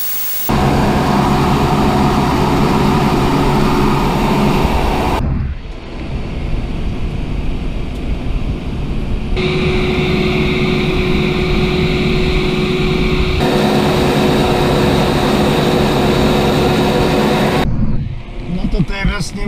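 A Valtra tractor engine roaring at full throttle while ploughing a meadow, a loud continuous drone with shifting tone between stretches, close and constant for the whole span.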